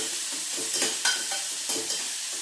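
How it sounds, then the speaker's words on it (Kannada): Onions frying in a pan for motte masala give a steady sizzle, with a few scraping stirs and light clinks as tomato is added. No speech is heard. "ಈರುಳ್ಳಿ ಚೆನ್ನಾಗಿ ಫ್ರೈ ಆದಮೇಲೆ ಟೊಮೊಟೊ ಹಾಕ್ತೀನಿ"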